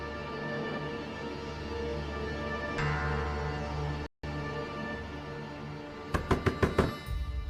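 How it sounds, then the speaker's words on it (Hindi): Someone knocks on a closed door in a drama scene, a quick cluster of sharp raps near the end that follows a steady hum of background music, with no talking. "खावर दरवाजा खोले प्लीज"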